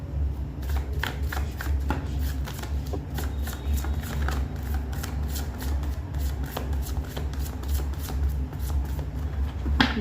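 Tarot cards riffle and slap together in a steady run of shuffling over ten seconds, the crisp flicks close and continuous above a low background hum.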